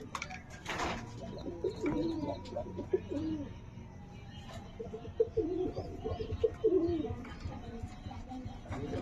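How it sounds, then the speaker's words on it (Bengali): Kaldoma pigeons sitting on eggs in a home loft give quiet, low rolling coos in short bursts, faint and slightly distant, with a thump near the start and light room noise behind. "এই দুটো কালদমা আছে ডিমে বসে আছে"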